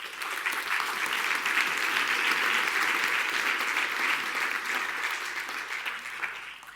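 Sustained audience applause with dense, steady clapping, even and continuous throughout, no voices over it.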